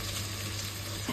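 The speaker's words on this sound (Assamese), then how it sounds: "জলকীয়াখিনি ভাজি আছো ধুনিয়াকৈ" Bhut jolokia chillies fry in a pan of mustard oil over a gas flame, giving a steady, close, broadband sizzle with no voices.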